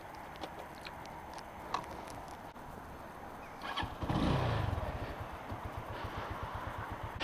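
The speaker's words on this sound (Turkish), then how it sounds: "şimdi motosikleti aldın açtık arkadaşlar" A carbureted RKS RN180 motorcycle starts and settles into a steady, close idle, its rapid regular engine pulses continuing alone after a short cranking burst.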